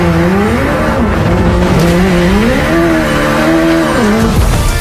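A Hyundai RN24 rolling lab, an IONIQ 5N-based rally EV with i20 N Rally 1 Hybrid steering, plays loud synthetic engine sound, a continuous rising and falling tone that holds close and steady throughout.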